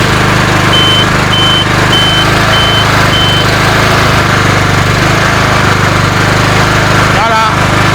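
A Thunder Max machine's engine runs loud and steady with a constant mechanical drone, a short series of evenly spaced beeps early on and a brief rattling clatter near the end.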